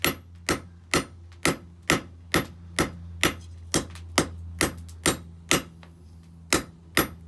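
A hammer strikes hot steel on an anvil while a square taper is forged for a steak flipper, about fifteen sharp ringing blows at a steady, even rhythm, close and loud.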